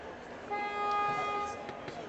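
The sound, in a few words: horn honking repeatedly at a boat show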